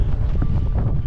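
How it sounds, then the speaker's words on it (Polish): Strong wind buffeting the microphone in a steady low roar, loud and close, high on the Skye Trail in Scotland, with no voices. "i pizga wiatr"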